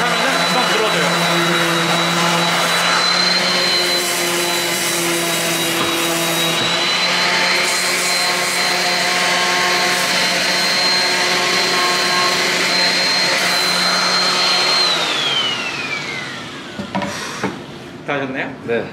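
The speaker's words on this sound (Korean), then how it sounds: "이제 기계사포로" An electric sander buzzes steadily on wood at a woodworking workshop, a loud continuous whine that runs for about fifteen seconds before winding down, followed by a few short knocks and handling sounds.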